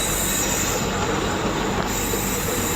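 A passenger train rolls past on the rails near Bilaspur, a loud, steady rush of wheels and carriages with squealing and faint clatter, close by and continuous, with no voices.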